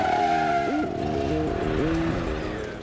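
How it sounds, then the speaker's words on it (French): A racing truck at the 24 Heures Camions in Le Mans revs hard as it accelerates and steers, with engine pitch rising and falling and a sharp tire squeal from a handbrake skid, loud and close. "Accélère, coup de volant, frein à main."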